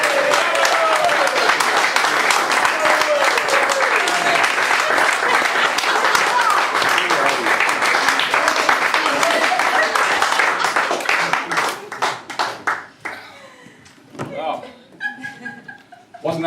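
Loud, dense applause from an audience for a music act at a live event, sustained for several seconds before thinning into scattered claps, with chuckles and voices as it fades.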